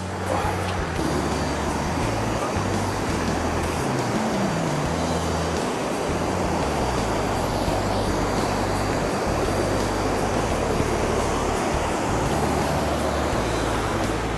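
Tad Kham waterfall in Phu Langka National Park, Nakhon Phanom, a dense, steady roar of falling water that fills the whole stretch without a break.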